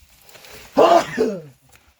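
A single short sneeze bursts out nearby during a mountain trek to a fort in the Baglan range of Maharashtra, a quick sharp explosive breath against quiet outdoor surroundings.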